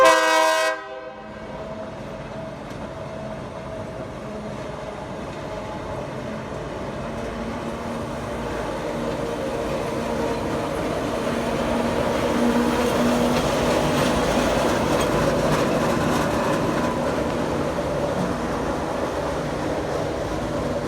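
A restored 1950 GE 44-ton switcher locomotive on a test run, a loud steady engine rumble and rolling rail noise throughout, opening with a brief horn blast.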